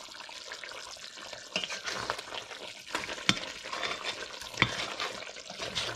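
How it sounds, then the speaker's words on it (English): Chicken curry bubbles and sizzles in a pot without added water, a close, steady frying hiss broken by sharp scrapes and clinks as a spoon stirs against the metal. "So the curry is still bungeing, guys."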